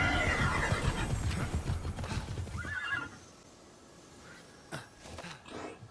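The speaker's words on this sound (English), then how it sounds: "You'll also get the ability to call and ride your horse, or in my case, a Pegasus, making traversal less time consuming." A horse in a PS5 video game clip-clops with quick, close hoofbeats, whinnies loudly partway through, then snorts and gives a few faint hoof steps at the end.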